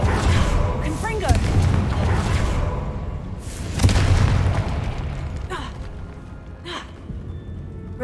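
A Confringo fire spell explodes in the Hogwarts Legacy video game, a dull booming burst with a whooshing swell, followed by a second deep thud amid game ambience and a faint voice.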